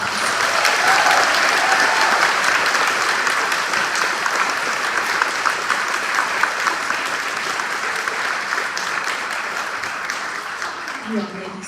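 An audience at an elementary school fourth-grade celebration claps loudly, a dense, sustained round of applause that gradually thins toward the end.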